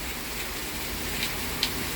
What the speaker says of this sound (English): I wanted to get a little bit of this beautiful cleansing rainstorm and thunderstorm.